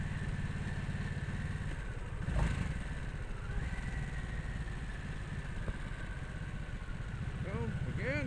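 A motorcycle engine drops in revs while shifting down through the gears toward a stop sign, a steady mid-pitched drone throughout with faint wind noise and a brief bump midway.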